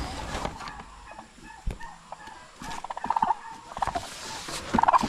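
Turkeys at a rural Philippine farmyard let out short, bubbling gobbles in quick clusters, mid-distance and moderately loud, with scattered clucks, knocks and other farm noises between them.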